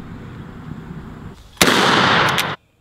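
A gun fires with a loud, sharp crack that swells into a dense, sustained blast for about a second, then cuts off abruptly into silence, following a stretch of quieter background noise.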